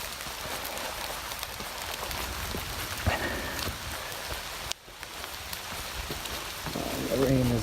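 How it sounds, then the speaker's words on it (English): Heavy rain pours steadily around a hiker on a long forest trail loop in the Allegheny region, a dense, continuous hiss that briefly dips before building again. "The rain is let up, keeps coming through in really heavy batches and then slows down a little bit."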